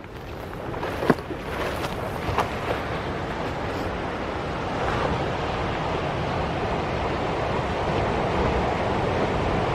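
Steady ocean surf washing onto a beach at the foot of a hiking track, a broad continuous rush with wind buffeting the microphone and a few brief knocks early on.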